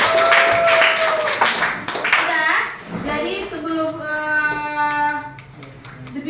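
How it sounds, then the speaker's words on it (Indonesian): Pupils in a classroom clap for their classmates, a short burst of applause at the start that gives way to children's voices talking and calling out. "Tepuk tangan untuk teman-teman"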